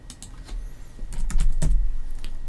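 Computer keyboard keys click in a short burst of typing, a few close taps spaced unevenly and then a quicker cluster, over a low background hum.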